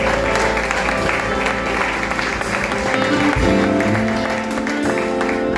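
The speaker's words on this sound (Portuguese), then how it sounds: "Dê uma salva de palmas para o Senhor" A church congregation claps for the Lord during a worship service, a steady, dense wash of applause filling the space with some voices mixed in and music or tones underneath throughout.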